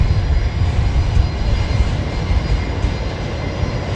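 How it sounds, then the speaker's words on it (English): A Fokker jet powered by Rolls-Royce Tay engines roars nearby at Brisbane Airport, a dense low rumble that swells and ebbs slightly, with no voices. "I do really enjoy the sound of the Rolls-Royce Taze"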